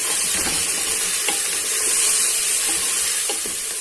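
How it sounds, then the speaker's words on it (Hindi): Garlic and ginger frying in oil for a dhaba-style Kashmiri dal, a loud, dense, continuous sizzle with soft stirring scrapes, close up and with no voices. "ये हम लहसुन अदरक जो है ना ये शामिल करेंगे और इनको हम भूनेंगे"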